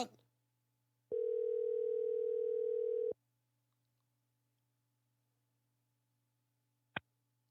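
A phone call goes unanswered: a single long ringback tone sounds alone for about two seconds, then silence, followed by a short click.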